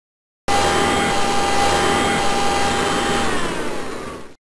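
A cartoon vacuum cleaner in the Millie and Bailey Preschool video game roars loudly and steadily for about four seconds with a whining motor tone, then cuts off, alone without speech.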